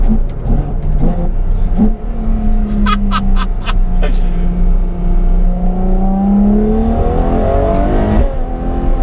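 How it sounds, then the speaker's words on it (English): A Ferrari F12 TDF's big engine drones loudly close by and sweeps through a falling and rising pitch as it shifts, with quick crackling pops and a voice talking over it. "Watch how quickly this downshifts."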